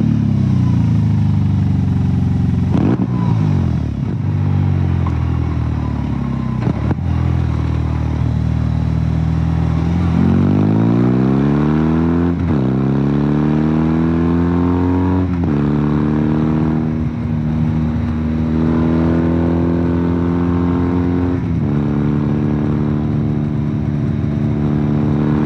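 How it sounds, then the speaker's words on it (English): A BMW R 18 Classic motorcycle engine running in rock mode, revving up and down repeatedly, loud and close, with pitch swells and throttle blips and no talking. "Here's Greg demonstrating the Classic in rock mode."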